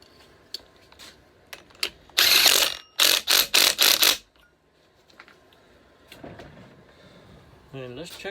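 Fitting the flywheel onto a 1971 Johnson 9.5 HP outboard motor brings a burst of rapid metallic ratcheting clicks in several quick runs, with scattered lighter clinks before and after and a brief voice near the end.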